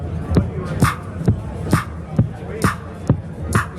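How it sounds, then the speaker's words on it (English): A Korg Volca drum machine plays a synced pattern with a sharp clap sample landing on a steady beat over thumping low kicks, the hits repeating evenly and close up. "So I'm going to put this into record and add in some clap."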